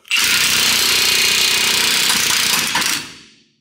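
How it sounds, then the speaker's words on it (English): A pneumatic impact wrench hammers loudly and continuously for about three seconds while pressing the lower ball joint out of a Ford Ranger's lower control arm, then stops and fades out. "We have our impact right here, and we'll just tighten it up until it pops out."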